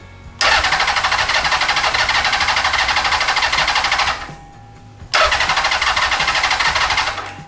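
Honda CB750 motorcycle engine cranking on the starter without catching, two long loud whirring bursts separated by a brief pause, close and with no voices.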